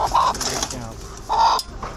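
A pure black broody hen gives short clucks in two brief bursts, close by, with faint background talk between them.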